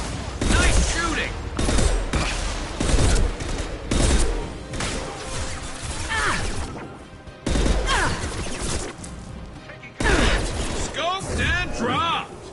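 Sniper rifle gunfire in a video game: heavy, loud shots and bursts recurring every couple of seconds among dense battle effects, with voices speaking in between.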